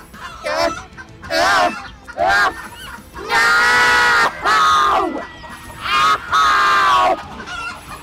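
A noisy flock of fowl squawking and honking in loud overlapping bursts, close by and chaotic, with brief pauses between clusters of calls.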